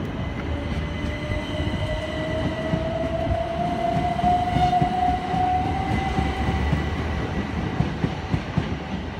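A train departing Southampton Central station rumbles steadily past at moderate distance, with a drawn-out wheel squeal rising over the low mechanical noise; no voices.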